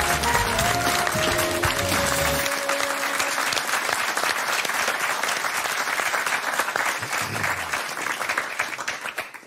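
A studio audience claps for Maarten van Rossum on a television quiz show, a loud, sustained wall of applause that continues without fading, with a brief stretch of music at the start.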